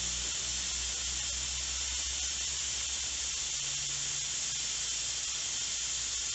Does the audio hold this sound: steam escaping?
yes